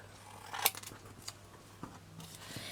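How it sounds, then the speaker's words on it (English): Scissors snip the corners off card for a trinket box, one crisp near cut followed by a few soft handling taps in a quiet room. "So just go around and snip them off."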